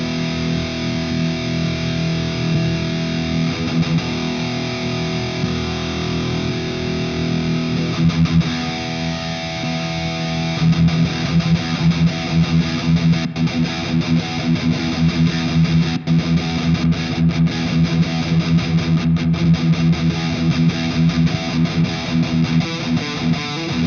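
An electric guitar plays through the drive effects of a Soran Dual Stomp processor. Sustained distorted chords and notes ring out alone, and the strumming grows busier and more rhythmic in the second half.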